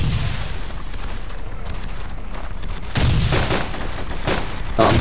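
Gunfire in DayZ on the Namalsk map: a dense, continuous fusillade of rapid shots, loud and close throughout, swelling into heavier bursts in the later seconds.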